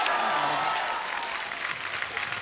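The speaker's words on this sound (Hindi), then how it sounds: "तो चलिए उनको बुलाते हैं जोरदार तालियों के बीच" Steady applause from a television studio audience welcoming guests onto a comedy show, moderately loud and continuous, with faint voices mixed underneath.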